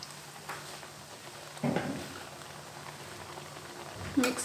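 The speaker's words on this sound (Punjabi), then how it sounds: "ਘਿਓ ਗਰਮ ਹੋ ਗਿਆ, ਹੁਣ ਬੇਸਣ ਪਾ ਦਾਂਗੇ" Gram flour dropped into hot ghee for besan barfi, a soft steady bubbling sizzle that swells as the flour goes in, with a few faint clinks near the end.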